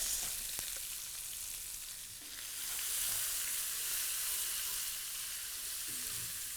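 Chopped onions sizzling in hot oil with mustard seeds and curry leaves for tomato rice: a loud, continuous crackling fry with a sharp tick near the start and a steady hiss throughout.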